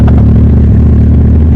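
A motorcycle engine with its silencer removed roars very loudly and close, a harsh, rough, continuous thrum that stays at full volume throughout.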